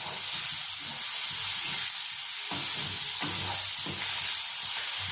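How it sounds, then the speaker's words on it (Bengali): Onion frying in a pan until light brown, a steady broadband sizzle with intermittent stirring scrapes, close and continuous, with no talking. "এবার পেঁয়াজটা আমি একটু হালকা ব্রাউন করে ভেজে নেবো"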